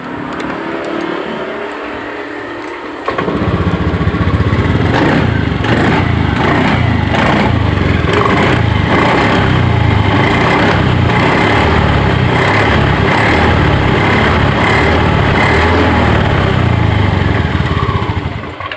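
Honda Scoopy scooter engine running after a starter repair: after a brief lower hum it catches and runs loud and steady close by, a continuous buzzing drone with slight pulsing.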